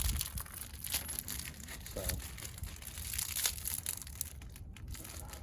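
Cardboard and plastic packaging for an FMF exhaust for a Kawasaki KLX being opened, a continuous close crinkling and crushing rustle with soft tearing, fairly quiet and without speech.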